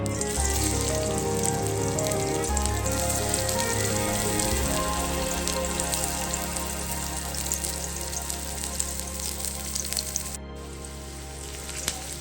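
Long-sliced onion sautéing in a pan while making veg noodles, a steady, even sizzle with fine crackle like rain on a surface, continuous and fairly soft, with no talking.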